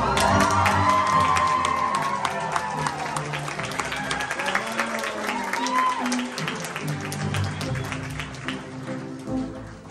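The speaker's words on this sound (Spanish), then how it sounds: "Y así con el aplauso más fuerte recibamos a la de la noche, Ángela Mía García." A crowd at a quinceañera celebration bursts into loud, sustained applause with cheers and whoops, filling the room and tapering slightly toward the end.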